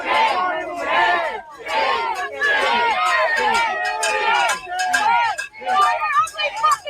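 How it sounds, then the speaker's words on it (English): A protest crowd outside an ICE facility near Minneapolis shouts in repeated rhythmic bursts, many voices yelling together in a loud, dense chant with short gaps between phrases. "they got a little crowd going"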